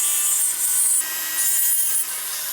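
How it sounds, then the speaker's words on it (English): Hand file smoothing a handmade silver pendant after soldering, a steady close rasping scrape with slight strokes pausing around each second, no voices. "Without a Dremel, file will take this off."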